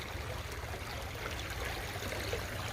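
Feet wade through a shallow, stony stream, giving a continuous close trickle and gurgle of moving water with low rumble beneath and no voices.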